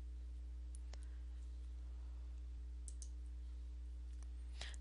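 Several faint, sharp computer mouse clicks spaced irregularly over a steady low electrical hum, with a small cluster of clicks at the end.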